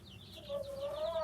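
A single drawn-out hen call rises briefly, close by, over quiet background noise, near Indian chicken chicks.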